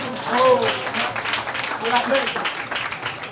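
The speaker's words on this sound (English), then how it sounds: "Please, can you clap for this woman?" An audience claps at an office inauguration event in Kumba, the applause rising and falling beneath a voice speaking loudly over it.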